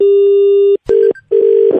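A telephone rings loudly during a prank call, sounding as a steady tone followed by two shorter bursts separated by brief gaps, with no voices.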